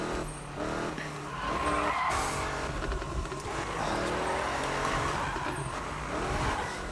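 Car drifting in Need for Speed 2015 with loud tire squeal and skidding over a revving race engine, the screech rising and falling through the slide, close and continuous without speech.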